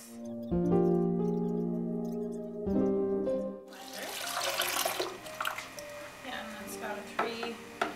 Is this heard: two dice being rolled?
no